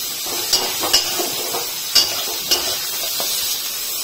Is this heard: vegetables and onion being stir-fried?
yes